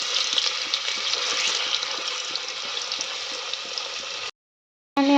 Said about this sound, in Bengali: আর আলু ভাজা করতে দিয়েছি, আলুটায় নুন হলুদ কিছুই দিইনি, শুধু ভাজতেই দিয়েছি।